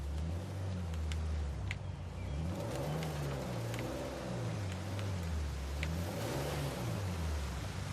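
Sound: driving a vehicle in video game Uncharted 4

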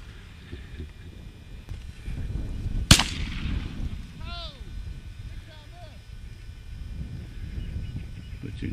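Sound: shotgun shots while duck hunting

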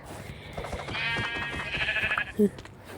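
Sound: sheep bleating in Minecraft video game

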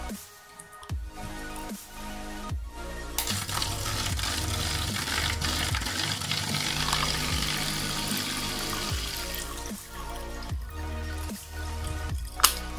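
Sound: water flowing through hang-on-back aquarium filter

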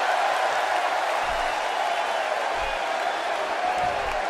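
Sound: crowd cheering in WWE 2K16 video game wrestling match

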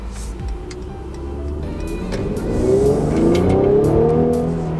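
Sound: Mercedes-AMG GLC 43 SUV engine and exhaust while driving

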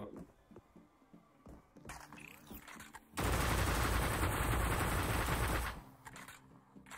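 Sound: gunfire in the VR video game Sweet Surrender

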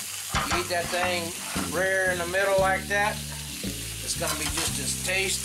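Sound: meat frying in bacon fat

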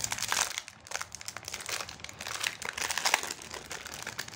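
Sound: unwrapping packaging of a metal camera adapter tube

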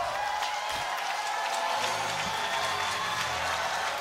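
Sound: crowd roaring at a college baseball game

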